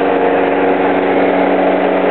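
A 4 hp lawn mower engine running on gas from a homemade wood gasifier, a steady, loud, continuous drone with no talking.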